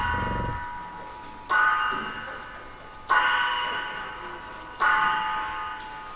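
A large church-style bell rings three times at slow, even intervals at a Christmas concert, each strike loud and resonant with a long ringing decay.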